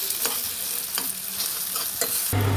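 Soya manchurian being stirred in a frying pan, with a spoon scraping through the pieces in several distinct strokes over a steady close sizzle.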